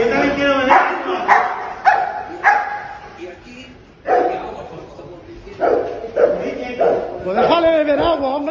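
A private security guard dog gives a series of loud, close barks and yelps in irregular bursts, with excited human voices talking and shouting over and between them.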